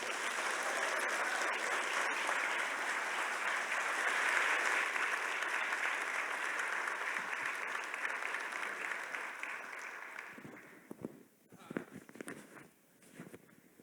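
Audience applause for Congressman Hakeem Jeffries at a crime-policy summit plenary, a full, steady round of clapping from a large crowd that holds for about ten seconds, then thins into scattered claps and a few faint voices.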